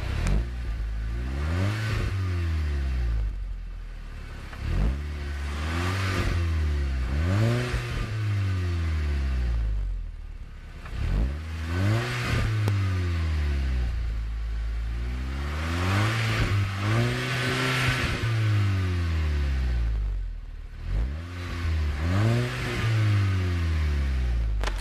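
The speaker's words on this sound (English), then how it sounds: "This will start up on the 2013 Volkswagen Golf R turbocharged" A 2013 Volkswagen Golf R with a turbocharged engine and six-speed manual is revved while parked, the engine note climbing and falling again and again in steady, loud cycles that repeat several times.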